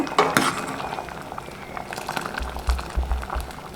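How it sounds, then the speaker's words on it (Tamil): Gentle bubbling of a green gram and drumstick curry simmering in a pot on the stove, with occasional clinks of a utensil against metal and low rumbling underneath. "இப்போ பருப்பு ஊற்றி நல்லா குழம்பு கொதிக்குதுங்க"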